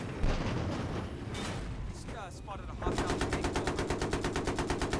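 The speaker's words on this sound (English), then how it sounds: "Can I destroy mines with this machine gun?" Rapid machine gun fire in Battlefield 3 on the Caspian Border map, first mixed with explosions and other gunfire, then a steady close burst of evenly spaced shots at a fast rhythm, loud and continuous.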